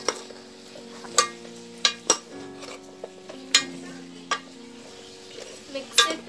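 Vegetables being stirred into masala in a pan for South Indian sambar, a spoon scraping and tapping the pan in irregular clinks and knocks over a low, steady background.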